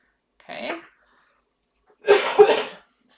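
A person coughs in two separate bursts, one short and one heavier, with quiet gaps between and no speech.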